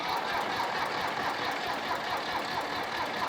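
Tractor engine idling steadily nearby with a low, even rumble and slight knocking, continuous and alone with no talking.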